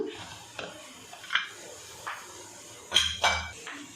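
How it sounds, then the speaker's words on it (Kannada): A pressure cooker holding white pulao is opened with a few scattered metallic clinks and clatters of the lid, quiet and sparse with short gaps between them. "ಈಗ ಕುಕ್ಕರ್ ತೆಗಿತಾ ಇದ್ದೀನಿ"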